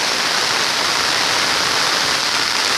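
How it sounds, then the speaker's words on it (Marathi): Heavy monsoon rain pours steadily near the flooded Muchkundi river in Konkan during a stormy downpour, a dense, unbroken hiss that stays loud and even throughout with no voices. "आता पाऊस पण जोरात आला आहे."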